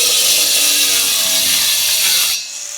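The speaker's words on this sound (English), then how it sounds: "And here's the wood blade in action." Angle grinder fitted with a wood-cutting blade biting into wood, a loud continuous rasping whine that holds steady for over two seconds, then drops off sharply near the end as the cut finishes.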